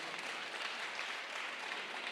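An audience at a political gathering in Kiambu, Kenya, claps steadily, a dense, even patter of applause heard at moderate distance and fairly quiet.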